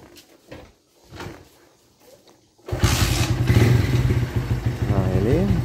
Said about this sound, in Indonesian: Saya akan nyalakan mesin.